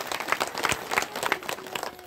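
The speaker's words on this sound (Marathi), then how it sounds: "एकदा जोरदार टाळ्या वाजवा" Audience clapping loudly and steadily at a Marathi kirtan during a harinam saptah, a dense burst of many hands applauding together that holds up across the whole stretch with no voice over it.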